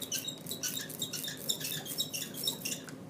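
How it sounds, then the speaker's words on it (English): Sticky, repeated squeaks and crackling from an ink roller worked back and forth across a tray, steady and close, with no talking. "You can hear that over my sticky, squeaky brayer."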